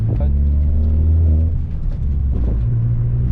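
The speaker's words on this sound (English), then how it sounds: "So first drive after Catless downpipe install." A Honda Civic Type R FK8 with a catless downpipe drives along, its engine a deep, loud droning rumble with a brief dip in pitch as talk carries on inside the cabin.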